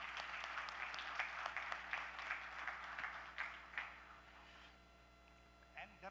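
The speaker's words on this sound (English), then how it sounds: "Please give him a big round of applause." Audience at a Bengaluru innovation summit claps in a steady round of applause, moderately loud with distinct individual claps, tapering off near the end as a voice returns.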